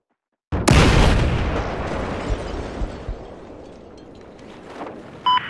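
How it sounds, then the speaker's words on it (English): A loud in-game explosion bursts in sharply after a moment of silence, then rumbles and roars as a long decaying blast with scattered smaller pops and crackles trailing off. "I died in the explosion"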